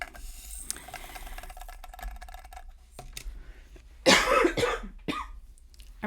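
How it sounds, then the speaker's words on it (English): A person coughs in a short, loud burst near the microphone, followed by a smaller cough, with faint clicking and handling noises in a quiet room beforehand. "I'm sorry about the coughing."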